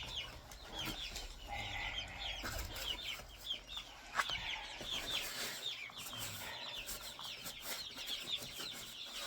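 Ducklings in a brooder with a heating plate, a continuous busy chorus of peeping and chattering calls with occasional wing flutters and scuffling, close and fairly loud.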